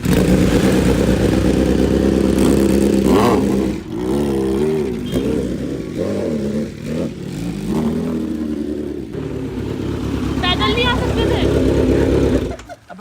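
Kawasaki H2R superbike engine during a cold start, a loud close engine note with repeated sharp revs rising and dropping, some clatter, and voices talking over it.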